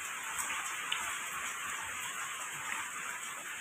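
Rain falls at night as a steady, even hiss of drops, continuous and moderately loud, with no other sounds standing out.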